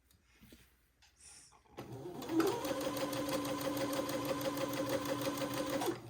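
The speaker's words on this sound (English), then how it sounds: "I'm going to sew a straight seam on the batiste part of the entree beading, just to the right of the entree holes" A sewing machine runs steadily, stitching a straight seam along the batiste part of entredeux beading, a continuous whirring hum with rapid needle clatter after a few quiet, faint handling sounds at the start.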